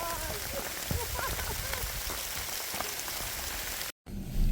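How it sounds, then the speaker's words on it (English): Hail pelts down steadily in a dense, hissing patter while hiking the Appalachian Trail near Rock Gap, a continuous wash of tiny impacts with a voice briefly underneath and a sudden cut near the end. "we have hail coming down"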